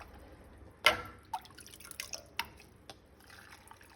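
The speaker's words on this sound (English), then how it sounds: "I'm gonna just ladle this into here until I get a little less liquid." Dill pickle brine ladled into a glass canning jar: one clear splashing pour, followed by a few small drips and trickles, close and quiet.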